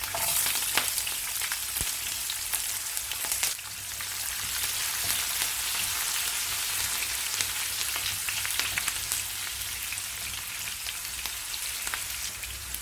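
Chana dal, asafoetida, dried red chilies and green chilies sizzle in hot oil for a Tamil tempering. A dense, steady crackle and hiss carries on throughout with no talk, close and fairly loud.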